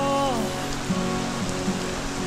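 Steady rain from Tropical Storm Crising patters down on a surface in Quezon City, a dense continuous hiss with low hum and a few faint tonal sounds underneath, no voices.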